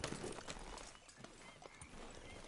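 Horse hooves clip-clop in the video game Red Dead Redemption 2, a string of irregular soft thuds and knocks at moderate distance, with a faint snort or whinny mixed in.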